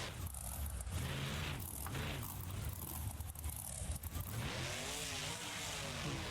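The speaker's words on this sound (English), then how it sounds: "He's going over the trailer, going into a slap wheelie to start off his freestyle run." A monster truck opening a freestyle run at an outdoor arena, launching over a trailer into a slap wheelie: a loud, rough engine surging and revving in rising and falling sweeps, with crowd and ambient noise beneath and a commentator faintly audible.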